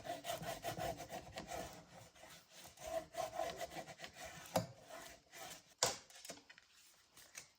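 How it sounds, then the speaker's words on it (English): A bone folder rubs and burnishes down a folded paper booklet with a glued spine, making quiet, close, rhythmic scraping strokes in short bursts, then a couple of soft taps before it goes still. "You could use a bone folder to burnish that down a little bit."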